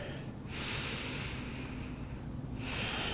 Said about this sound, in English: we'll take 10 deep breaths there